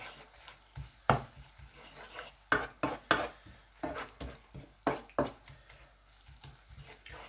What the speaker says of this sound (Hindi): साथ ही हम लहसुन को मिक्स कर लेंगे बीच में।